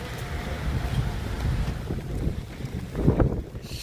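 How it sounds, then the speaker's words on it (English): Wind buffets the microphone in low, uneven rumbling gusts on a winter street in Toronto, strongest near the end, with no voices. "it's windy."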